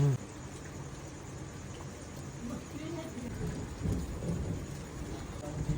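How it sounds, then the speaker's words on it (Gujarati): Distant thunder rolls low and faint beneath steady rain, with a soft voice murmuring intermittently. "પાછળ મસ્ત વીજળી થાય છે વીજળી જોરદાર થાય છે"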